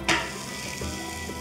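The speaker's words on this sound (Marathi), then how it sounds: "याच पद्धतीने सगळे पराठे मी इथे भाजून घेते" A paratha roasts on a hot pan with a steady, soft sizzle after a sharp initial tap of utensil against the pan, heard up close without any talk.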